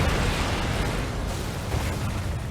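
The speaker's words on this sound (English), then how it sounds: "I kind of forgot bombs did that, you know, explode." Bombs go off in the video game Darksiders, giving a dense, rumbling blast of noise that holds steady and loud for the whole stretch without clear separate bangs.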